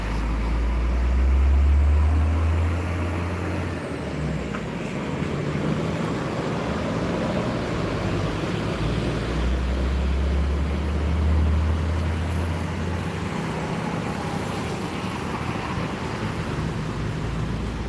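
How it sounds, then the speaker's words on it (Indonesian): Trucks rumble past on a road with deep engine drone swelling twice, rising and fading as each passes, over constant traffic and outdoor noise. "baru truk-truk yang melintas"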